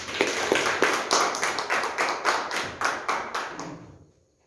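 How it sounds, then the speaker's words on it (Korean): A church congregation claps together in rhythmic unison, sharp regular beats close and loud, then stops abruptly with no talking. "우리 이렇게 인도해 주신 하나님께 영광의 박수 한번 올려드리겠습니다"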